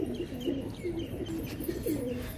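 Soft, low pigeon cooing repeats in a steady rolling rhythm close by, with faint chirps above it, among kept pigeons in Delhi.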